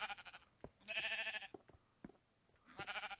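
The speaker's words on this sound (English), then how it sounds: "Kill the sheep. Kill the sheep." Sheep bleat in the Minecraft video game, three drawn-out, wavering calls with short gaps between them, each clear and fairly close.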